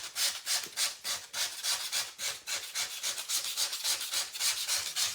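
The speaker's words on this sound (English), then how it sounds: "I'm going to use a sanding block. I'm just going to sand off all the rough edges." Rapid, rhythmic rasping strokes of a sanding block scraping across cardstock edges, close and steady, about four strokes per second.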